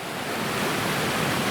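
A waterfall and rushing creek water pour steadily at George Creek, a broad unbroken roar that fills the whole clip with no voices.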